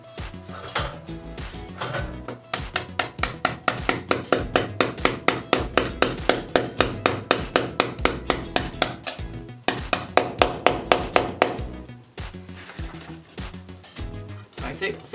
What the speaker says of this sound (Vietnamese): bạn dùng búa đóng thật mạnh, cho nó lên maximum nó luôn